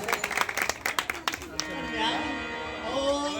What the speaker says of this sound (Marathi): जोरदार टाळ्या झाल्या पाहिजे एकदा जोरदार